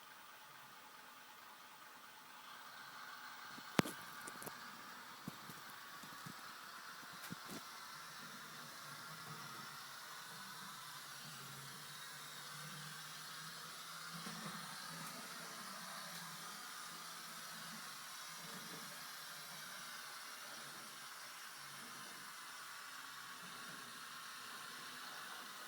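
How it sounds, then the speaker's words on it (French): A model train with an Intellibox II-controlled engine sound module gives a faint, steady mechanical hum and hiss, preceded by a few sharp clicks and rattles near the start. "Nouvel essai cette fois avec la sonorisation du moteur ainsi que la compensation d'accélération et de freinage."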